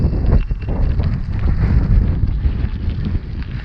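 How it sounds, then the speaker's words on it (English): Strong wind roaring steadily across a microphone during a motorcycle ride, loud and continuous low-frequency buffeting with no talking. "Boy, was that windy."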